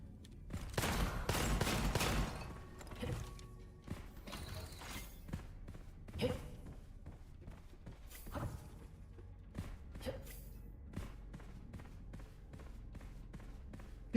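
Heavy mortar with a 107-round capacity fires in a video game, a dense burst of loud, booming blasts up front followed by repeated sharp explosive hits and crackling impacts spread across the next several seconds.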